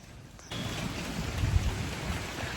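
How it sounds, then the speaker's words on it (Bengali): Heavy rain on a Kaushiki Amavasya morning, a dense continuous roar of downpour that swells after a quiet start and stays loud and steady, with low rumbling underneath and no voices. "আজকে কৌশিক অমাবস্যার দিনে এত বৃষ্টি হচ্ছে"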